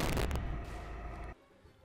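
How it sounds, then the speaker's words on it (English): Cannons fire aboard airships in the game Airships: Conquer the Skies, a loud booming blast up front followed by a rumbling decay that cuts off abruptly. "Fire the cannons."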